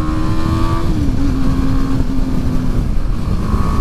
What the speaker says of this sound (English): It's got a nice sound when you wind it out through the gears.